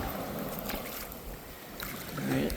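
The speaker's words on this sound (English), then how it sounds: "You hear that wind?" Wind gusts on Navarre Beach, Florida, on a rainy day, a continuous rushing roar buffeting the microphone with faint surf-like wash beneath.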